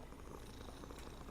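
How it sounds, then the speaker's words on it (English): A cat purring steadily and close by, a soft continuous low rumble with no pauses, heard on its own. "Hey, kitty."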